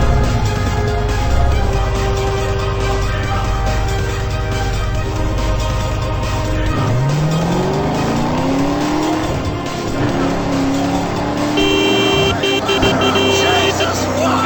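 A car races in the video game Road of the Dead, with a loud engine drone that drops off and then rises again in pitch as it accelerates, plus tire squeal, and a voice talking over it.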